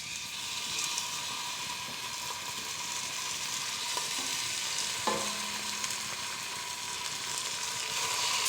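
Salted and peppered pork chops brown in a hot pan, giving a constant loud, hissing sizzle close by, with a few faint knocks and a short tonal squeak partway through.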